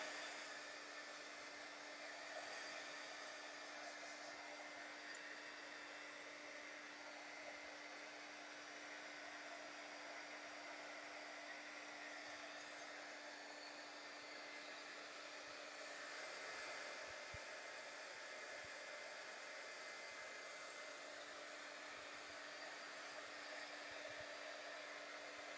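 A hair dryer blows continuously for the whole stretch, a steady loud whooshing hum aimed at a mixed media poppy artwork to dry it, with no talking.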